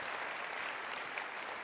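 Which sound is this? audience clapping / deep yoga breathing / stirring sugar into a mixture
audience clapping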